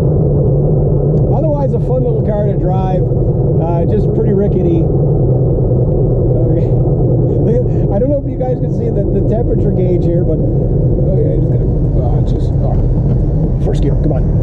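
A small, rickety manual car with an overheating engine coasts up a rural laneway, its engine giving a steady low rumble with rattles over it while someone talks nearby throughout.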